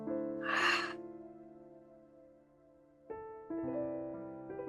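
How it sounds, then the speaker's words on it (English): A slow, relaxed breath drawn in and then let out in a long, soft exhale, close and alone, followed by quiet sighing breath. "Let's take one more deep breath in and exhaling."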